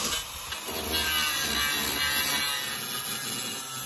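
Hand planer shaving along a wooden boat hull during fairing, a steady broadband rasping hiss with woody scraping held for several seconds, close and fairly loud with no talk.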